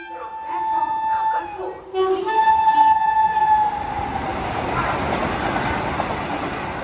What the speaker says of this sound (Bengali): আমাদের ট্রেন 7:50 হাওড়া ব্যান্ডেল লোকাল।